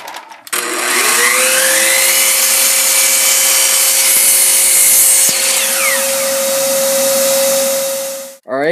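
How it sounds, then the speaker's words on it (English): A router fitted with a chamfer bit cuts a bevel along the top and side edges of a wooden board, a loud continuous high whine that runs steadily for several seconds and then spins down before a brief rise again. "now I'm using a chamfer bit to chamfer the top and sides so that the handle on the bag won't get hung up on the wood"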